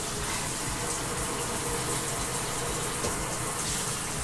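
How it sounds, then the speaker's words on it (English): An RV toilet flushing while the shower runs, heard as a steady, dense rush of water that stays loud and even throughout. "Let's see what happens when the toilet flushes."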